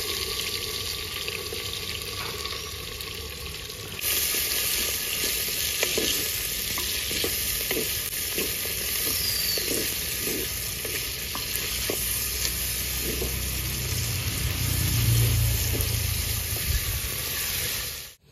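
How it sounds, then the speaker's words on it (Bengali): Chopped onions hit hot oil with bay leaf, dried chillies and cumin in a clay pot, setting off a steady close sizzle with intermittent scraping stirs and no talking. "কেটে রাখা পেঁয়াজ দিয়ে দেবো"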